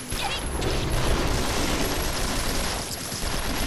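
Sustained gunfire in the hack-and-slash game Onechanbara Bikini Samurai Squad, a dense, continuous barrage of shots mixed with crashing impacts that holds steady at moderate loudness for the whole stretch.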